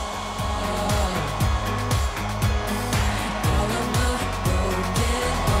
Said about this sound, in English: So what I'm doing now is just using a hairdryer just to blow it around a little bit.